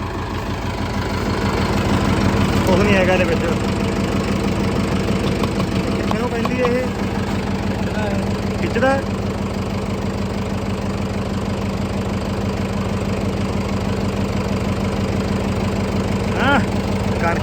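A tractor engine idles in a steady, low rumble throughout at an even level, with a few faint clicks and knocks over the top.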